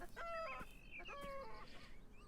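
Chickens in the video game Beyond Eyes, two drawn-out clucking crow-like calls close by, one after the other, over a quiet background.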